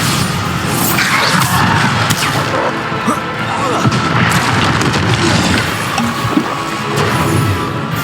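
Bombarda spell explosions in the Hogwarts Legacy video game burst repeatedly amid loud combat, thuds and whooshes in a continuous dense barrage at high volume.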